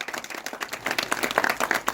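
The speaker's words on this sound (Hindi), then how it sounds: "जोरदार तालियां जॉन साहब के लिए" An audience at a public gathering for a Garhwali film bursts into applause for a guest, uneven, close clapping that swells and pulses over two seconds.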